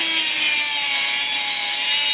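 A steady, loud, close cutting sound as a suspension part is cut down on a 2003 Nissan Maxima, rasping continuously without a break and with no voices.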